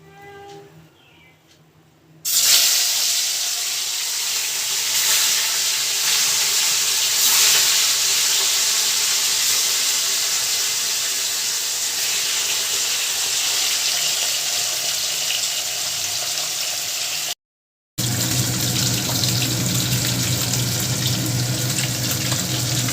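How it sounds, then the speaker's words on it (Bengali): Ganges fish frying in hot mustard oil in a kadai gives a loud, steady, hissing sizzle that starts after a quiet moment and runs on, with one brief break near the end. "মাছগুলো একটু কড়া করে ভেজে নেবেন"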